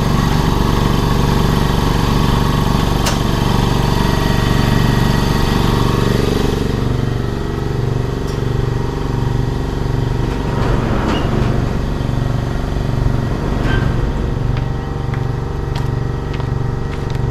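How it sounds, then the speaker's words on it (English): An air compressor runs continuously nearby, a loud, steady mechanical drone with a regular pulsing beat and brief shifts in tone partway through. "Let me move the air compressor a little further away."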